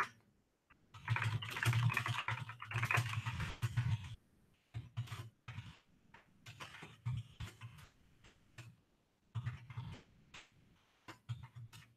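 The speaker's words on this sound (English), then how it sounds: "Hold on, I'm just typing some things out." Rapid keyboard typing clatters nearby in bursts, a dense run of keystrokes followed by scattered taps and pauses, fairly quiet overall.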